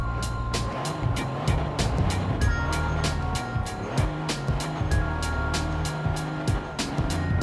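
Volvo Iron Knight truck engine heard from inside the cab in Forza Horizon 4, a loud, steady engine drone that climbs and drops through repeated gear shifts, with sharp rhythmic bursts over the top.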